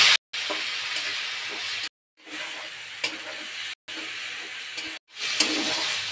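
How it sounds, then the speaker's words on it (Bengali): Spice paste sizzles and fries in a pan with fried onion and garlic for a chana dal with mutton fat, a loud steady crackling hiss in several separate bursts with brief silent breaks between them. "মশলা কষানো হয়ে গেছে"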